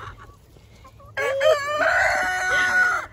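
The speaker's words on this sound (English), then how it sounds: "Keeping an eye on my rooster." A rooster crows loudly and close by, one long drawn-out call following a few faint bird sounds at the start.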